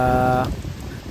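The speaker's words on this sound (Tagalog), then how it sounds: "na parating na yung malakas na ulan" Heavy rain falls during Typhoon Kristine in Calamba, a dense, steady wash of close hiss that follows a brief tonal hum at the start, with no one speaking.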